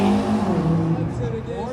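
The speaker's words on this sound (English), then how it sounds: "Driver will engage launch control. He's going to build up the rev." Drift car held on launch control at a drift arena ring road circuit, engine revving hard and steady close by as the revs build, a loud sustained roar with shifting pitch; voices murmur faintly underneath.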